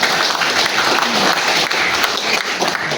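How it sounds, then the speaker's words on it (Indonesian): Loud, dense applause from an audience at a book launch event published with Kompas, a full crowd clapping steadily with no talk over it, holding strong throughout. "Sekali lagi tepuk tangan."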